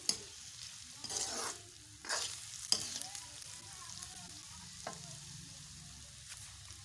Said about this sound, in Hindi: जब तक हमारा प्याज फ्राई हो रहा है